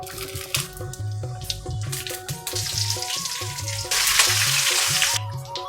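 Tempering seeds dropped into hot oil with asafoetida for a cauliflower curry, crackling and sizzling loudly and unevenly, with a steady tone running underneath and bursts of brighter spitting.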